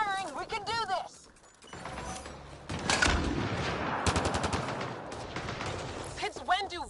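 Video game Mass Effect Andromeda combat: rapid bursts of automatic gunfire and mechanical weapon clatter between stretches of shouted voices, moderately loud with a brief lull early on.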